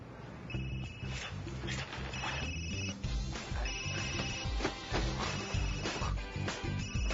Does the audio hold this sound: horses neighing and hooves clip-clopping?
no